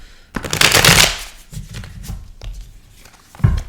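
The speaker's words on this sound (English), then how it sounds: "It takes forever to shuffle these tarot cards." A deck of tarot cards is shuffled close up, giving dense riffling bursts that swell, fade and return in quick flurries, with no one talking.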